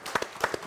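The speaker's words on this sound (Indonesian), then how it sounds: "tepuk tangan dong." At an Indonesian youth talk event, a small audience gives a brief round of applause, just a handful of scattered, separate claps heard over a faint background.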